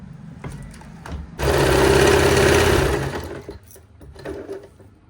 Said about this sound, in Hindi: अब हमने यहाँ पर एक प्रेस स्टिच लगानी है, यानी कि एक सिलाई अब हमने यहाँ पर लगानी है